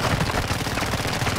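Gunfire in a video game comes as a dense, continuous clatter of rapid shots, loud and unbroken across the whole moment.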